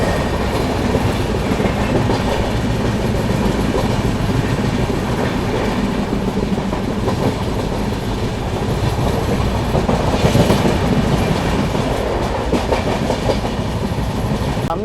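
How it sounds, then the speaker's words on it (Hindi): An Avantika Express train rake rolls toward the platform with a steady, close, loud rumble and a continuous wheel clatter throughout, and no voices are heard. "अवंतिका एक्सप्रेस के रेक्स प्लेटफॉर्म पे लगने के लिए ये भी तैयार है।"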